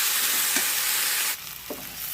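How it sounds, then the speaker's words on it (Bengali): Spiced potato, pointed gourd and soybean fry in a pan with a loud hissing sizzle, a soft stirring scrape twice, then the sizzle drops sharply quieter near the end. "এটা এখন ভালো করে কষিয়ে নেব"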